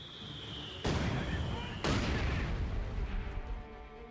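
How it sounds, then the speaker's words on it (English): Two heavy booms from a mortar barrage in Company of Heroes 2 about a second apart, each followed by a rumbling, crackling tail, with battle noise continuing underneath. "it looks like he does do a regular mortar barrage"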